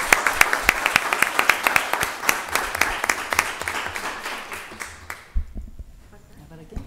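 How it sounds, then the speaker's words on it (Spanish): An audience at a panel discussion on the English-language press of Valparaíso claps in a brisk burst of distinct individual hand claps that thins out and fades to scattered claps near the end. "Un aplauso para ustedes."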